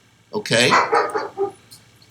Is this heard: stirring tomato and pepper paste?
no